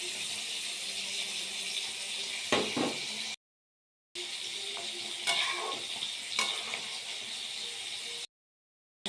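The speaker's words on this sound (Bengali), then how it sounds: "এবার মাছগুলো দিয়ে দেবো।" Fish going into a simmering cauliflower curry, with a soft bubbling sizzle and a few clattering stirs and splashes, close by and broken by two short silent gaps.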